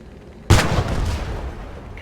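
A single loud, close blast of gunfire or artillery in the WWII shooter Post Scriptum, striking sharply out of near silence and rolling off into a long, rumbling boom.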